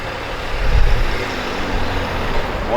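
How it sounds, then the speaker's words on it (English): Road traffic rolls past a tower construction site in Alexandria, Minnesota, a heavy vehicle's low engine rumble swelling briefly near the start and then settling into a steady roadway drone. "More traffic going through"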